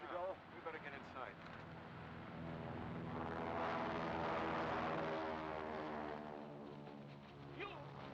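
Propeller airplane engine from a 1942 film serial roars steadily as it takes off, building to a loud sustained drone mid-clip with voices speaking briefly over the start and end.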